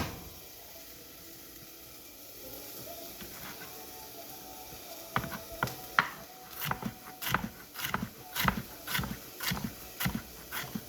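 Onions being sliced on a cutting board in a home kitchen, a quiet run of sharp knife taps that grows into a steady, fairly rapid chopping rhythm in the second half.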